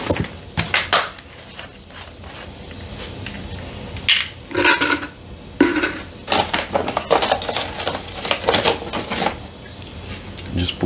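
A container holding an iron and lawn fertilizer mix is shaken, giving loud, irregular rattling and clattering bursts close by, with brief quieter gaps between them.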